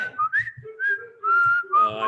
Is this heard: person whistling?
yes